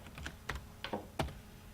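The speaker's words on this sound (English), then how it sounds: "when I hit the enter button on my keyboard" Typing on a computer keyboard while entering quiz questions gives a few separate, clear key taps and presses, close and fairly soft, with no voices.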